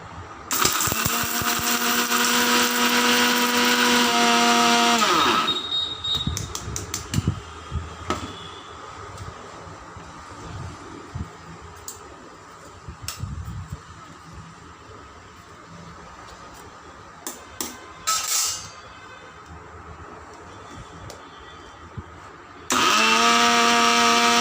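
Electric mixer grinder whirring loudly while grinding sambar masala spice powder, running for about five seconds, stopping amid clatter and handling sounds, then starting again at the end.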